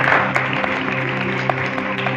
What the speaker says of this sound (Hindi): जिन्होंने हाथ खड़े किए हैं उनके लिए भरपूर तालियां बजाइएगा